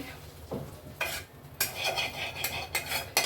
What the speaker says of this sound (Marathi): आता डाळ पण स्टीलच्या टोपात काढून घेणार आहे